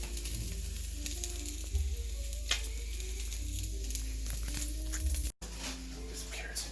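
Two garlic heads cook cut side down in a hot pan for braised short ribs, giving a steady close sizzle and frying hiss throughout. A brief dropout occurs near the end.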